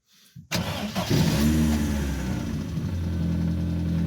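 Car engine cranks and fires after its MOT test, a quick starter whir followed by a catch and rev, then settling into a steady, fairly loud idle with no talking.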